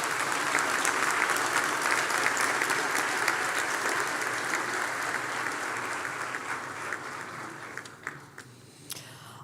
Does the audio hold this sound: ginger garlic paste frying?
no